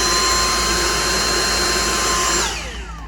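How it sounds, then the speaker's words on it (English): Dyson V6 (DC59) cordless vacuum cleaner running on its own with the motor body working, a loud steady whirring roar with a high whine that spins down near the end. "in front of us is the V6 Dyson vacuum cleaner, also known as the DC59, and the vacuum itself works perfectly"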